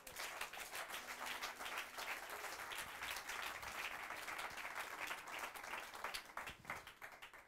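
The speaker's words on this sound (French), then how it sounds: "Que quelqu'un donne gloire à Dieu par ses acclamations." A church congregation claps and acclaims in praise of God. The steady, dense applause is fairly distant and soft and rolls on evenly without a break.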